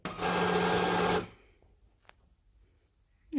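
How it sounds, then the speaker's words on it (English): A printer feeds a fabric sheet and prints a simple design onto it, giving a loud, steady mechanical whir for about a second before cutting off into near silence with a faint click. "So just putting that in, and I'll just print a simple design on there."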